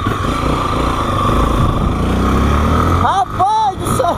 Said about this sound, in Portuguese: E agora essa moto?